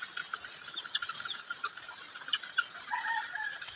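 Chickens clucking while being fed during rain, scattered short clucks over a steady hiss of falling rain.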